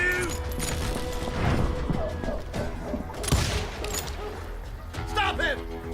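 Gunfire in the Western shooter Call of Juarez, several shots cracking over a busy game soundscape with someone talking throughout.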